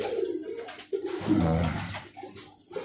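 Birmingham Roller pigeons coo inside a loft, a soft, low burbling that swells in the middle and recurs in a few throaty phrases, fairly close and steady with no talking.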